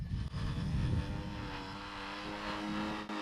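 A VTOL model aircraft hovers nearby with a steady, tonal whir from its electric motors, the pitch wavering a little as it holds position, with no voices.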